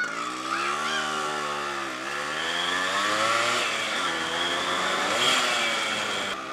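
A Yamaha RX100 two-stroke motorcycle is ridden through Pokhara, Nepal, its raspy engine loud and close, revving up and down in steady waves across the whole ride.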